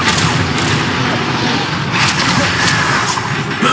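Confringo fire blasts and Glacius ice spells burst repeatedly in Hogwarts Legacy combat. The crackling explosive impacts are loud and dense, and they overlap constantly with no pauses.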